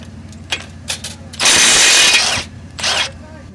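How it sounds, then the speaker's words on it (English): Short ratcheting clicks from a 19mm socket wrench removing castle nuts on a Jeep ZJ's steering linkage, then a louder burst of a power tool spinning for about a second, followed by another brief whir. "You'll need to use a 19mm socket to remove the castle nuts."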